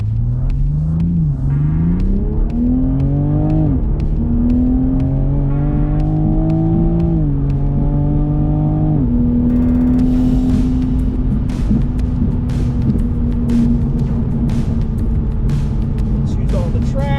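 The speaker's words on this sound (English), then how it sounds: "A lap of Streets of Willow, or a few laps in the 2020 Toyota GR Supra" A 2020 Toyota GR Supra laps the Streets of Willow race track, its engine note climbing steadily through several gears with clear shift breaks, then holding a loud, steady drone from inside the car.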